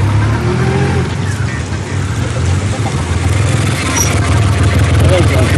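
A big-engine motorcycle, said to have the largest engine on the Indian market, runs steadily close by with a continuous loud rumble throughout, while people talk over it.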